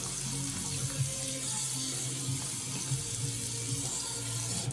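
Tap water runs steadily into a bathroom sink while a face is rinsed, a continuous close splashing rush with small irregular splatters throughout, no talk.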